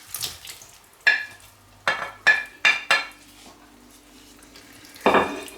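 Spoon stirring cooked octopus into an empanada filling in a pan, five or six distinct scraping, sizzling strokes spaced about a second apart, close and fairly loud with no talk.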